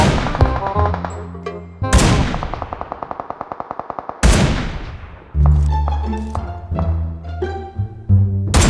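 Loud sniper rifle shots from an AWR in PUBG Mobile, several sharp cracks each trailing off in a long echo, with some quick rattling bursts between them and no voices.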